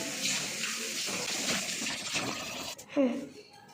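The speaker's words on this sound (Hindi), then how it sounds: "मैं इतना कप धुल रही हूँ, अपना फेवरेट कप, कि टूट ना जाए" Running tap water splashes steadily as a favourite cup is rinsed by hand in a kitchen sink, a continuous close hiss with a brief clink near the end.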